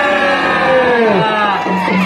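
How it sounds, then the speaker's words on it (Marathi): A big crowd roars and cheers at a kushti wrestling bout at the Karnala ground, a loud, continuous swell of massed voices with a voice speaking over it. "बाप रे टाळ्या"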